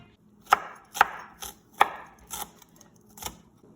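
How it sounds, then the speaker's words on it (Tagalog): Garlic crushed on a chopping board: a run of sharp, close thuds, about six or seven irregular knocks, with nothing else heard. "Start tayo sa ating chopping board. Garlic. Pitpitin ng garlic."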